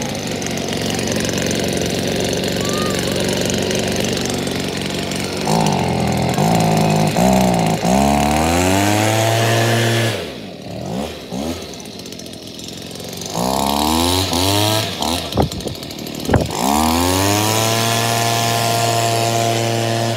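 A Stihl leaf blower runs steadily, its engine revving up and down in several rising and falling sweeps before settling back to a loud, even drone close by.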